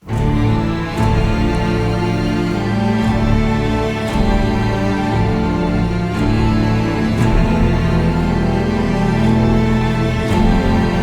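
Dense layered orchestral strings with solo cello and viola play a sustained, rich passage with low cello lines beneath, continuous and full throughout without any speech.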